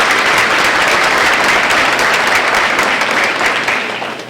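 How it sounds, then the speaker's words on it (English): Loud, dense applause from a school honor society induction audience for student musicians, a steady roar of clapping close to the microphone that holds for several seconds and then begins to taper off. "We can give them a little applause."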